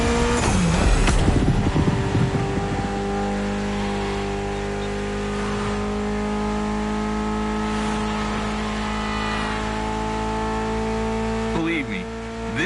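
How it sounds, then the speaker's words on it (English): A Mitsubishi inline-four engine with 280 horsepower in The Crew Motorfest revs and pulls through the gears, a loud sustained engine note rising and falling, with a brief shift near the end and a voice talking over it. "Mitsubishi gave us a nice inline four-cylinder with already 280 horsepower."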